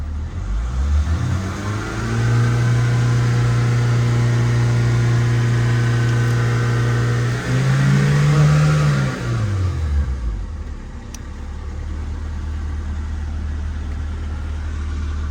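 An LDV G10 engine, in stock form, revs up from idle, holds a steady high drone, lifts briefly higher and then falls back to a low idle, loud and close with no talking.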